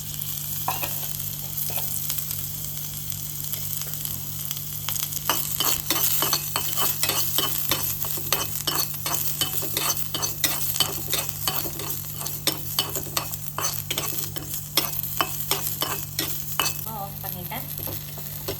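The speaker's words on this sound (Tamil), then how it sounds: "நான் அந்த பூண்டையும் வறுத்து எடுத்துக்கலான்னு இருக்கேன். கொஞ்சமாக வந்து கொஞ்சமாக ஒரு எண்ணெய் விட்டுக்கலாம்." Garlic fries in a little oil in a pan while a spoon stirs steadily, giving a continuous close sizzle punctuated by frequent metallic scrapes and clinks against the pan for the whole stretch, with no talking.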